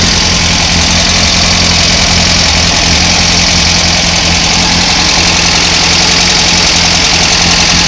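A Volkswagen 2-liter engine fitted with an aftermarket valve cover and running on a gravity fuel feed idles loudly and steadily, with a close, even mechanical rumble and some knocking vibration throughout and no voices.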